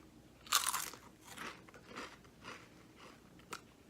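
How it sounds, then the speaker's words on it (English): Flamin' Hot Ruffles ridged potato chips crunch loudly in one sharp bite up close, followed by several softer crunchy chews and a final crisp crack. "the ridges and the ruffles, if you will, create an enormous crunch when you bite into it"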